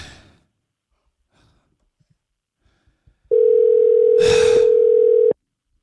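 A loud, steady phone calling tone holds for about two seconds after a quiet stretch, with a brief breathy sigh sounding over it midway; no speech.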